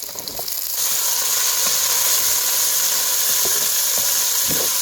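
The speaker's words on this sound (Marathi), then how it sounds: "चांगला कांदा तेलात भाजून एक वाटी वल्ला वटाणा घेतला आहे हे पण ह्यात टाकायचं कांद्याबरोबर" Chopped onion and green peas fry in hot oil with a steady, loud sizzle close by. A few soft knocks of stirring come through, and no one speaks.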